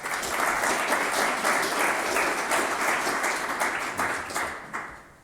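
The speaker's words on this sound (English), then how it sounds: "So a round of applause for Yuri, come on up." Audience applause at a sustainable forestry forum as a speaker is called up: dense, even clapping from a seated crowd that holds steady, then tapers off near the end.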